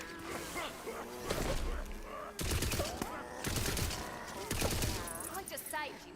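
Shotgun blasts from Tiny Tina's Wonderlands arrive as several loud, sharp bursts spaced a second or so apart, mixed with game effects and a voice talking between shots.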